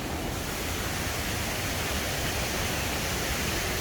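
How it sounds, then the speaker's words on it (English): Rapids of a five-level waterfall in Thailand roar as a steady, dense rush of falling water, loud and unbroken throughout with no voices. "I can hear the thunderous rapids off to my right."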